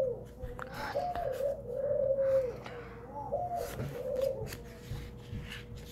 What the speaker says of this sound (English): Sorry guys, that's our bird.